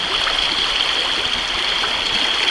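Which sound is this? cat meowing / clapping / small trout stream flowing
small trout stream flowing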